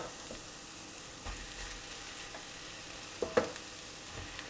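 Mushrooms and translucent onion fry in a pan with a steady low sizzle, broken by a few sharp utensil clinks and scrapes near the end; no one speaks.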